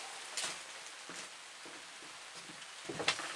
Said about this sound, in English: Well, it's officially raining.